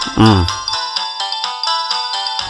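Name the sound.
phone ringing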